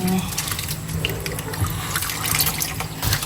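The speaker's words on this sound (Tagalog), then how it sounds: "Tatanggalin natin yung tubig. Magpapalit ulit tayo ng tubig para langas-langasin po ulit natin." Water running and splashing in a sink as the soaking water is poured off and refilled while washing grated salted santol, a steady close wash of liquid with a voice talking over it.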